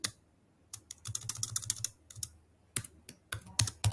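Computer keyboard keys clatter in irregular bursts while Python code is typed, close and fairly quiet, with short pauses between runs of keystrokes.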